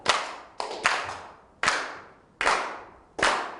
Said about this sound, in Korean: 박수를 쳐봅니다.